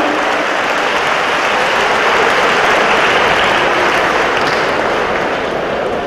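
Large crowd at an outdoor political rally applauding, dense continuous clapping that stays loud and even for several seconds with no speech over it.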